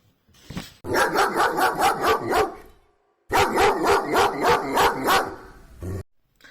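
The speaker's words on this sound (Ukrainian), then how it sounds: "А ви хочете послухати, як розмовляє собака?" A dog barks loudly and close, two rapid bursts of about eight barks each separated by a short pause.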